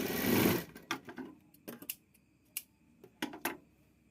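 A sewing machine stitches blouse fabric in a short, loud run at the start, followed by scattered sharp clicks and brief bursts of stitching that stop and start.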